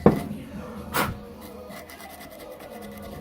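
Folded sandpaper scraping rust inside the horn of a 1933 Dodge DP: a short, harsh rubbing scrape up close, a second stroke soon after, then a quieter gritty rasping trail.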